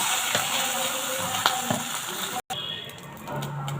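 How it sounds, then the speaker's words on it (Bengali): Fish pieces sizzle in a pan with salt and turmeric, a close, steady crackling fry with a few stirring knocks, and a brief break near the end. "একটু লবণ ও হলুদ দিয়ে ভালো করে ঝুরি করে নেব। মাছের ঝুড়িটা হয়ে গেছে"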